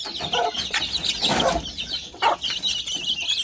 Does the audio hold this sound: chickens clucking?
yes